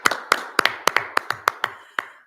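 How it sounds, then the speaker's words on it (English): Applause at a township board meeting: a small group clapping, sounding like only one or two people, with about ten sharp, close claps in an uneven rhythm that stop abruptly. "And we applaud them."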